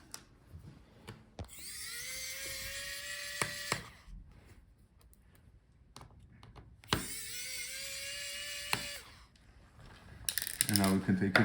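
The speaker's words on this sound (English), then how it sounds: "So unscrew all the screws." A powered screwdriver twice whirs for about two seconds at a time while removing the screws of a Lenovo Yoga 7 16IRL8 laptop, each run rising in pitch, between quiet clicks and handling noise.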